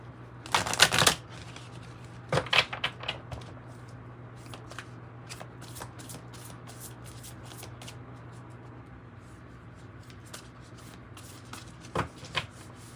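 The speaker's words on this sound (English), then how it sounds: "So we're gonna pull from this Wild Unknown Alchemy deck first." Close, quiet riffling and snapping of a Wild Unknown Alchemy tarot card deck being shuffled, with a few louder bursts of cards flicking together among softer sliding and tapping.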